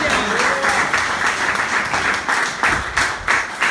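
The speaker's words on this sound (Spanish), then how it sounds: "Un aplauso a Cristo." A church congregation claps in applause, a dense ongoing patter of many hands that swells in bursts and stays loud, with a few voices mixed underneath.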